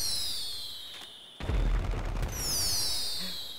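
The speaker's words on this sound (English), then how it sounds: "A bunch of redneck hillbillies shooting fireworks from freaking Mount Chiliad." Fireworks going off over Mount Chiliad in the video game GTA 5 during a Fourth of July celebration, a sudden loud burst followed by crackling rumble, with whistling launches above.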